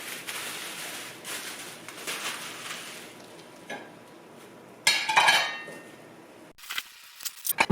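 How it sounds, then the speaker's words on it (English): Plates and dishes are wrapped and packed away, with papery rustling and crinkling followed by clinks and clatters of ceramic being set down, close and fairly quiet, ending in a few sharp knocks. "wrap the plates"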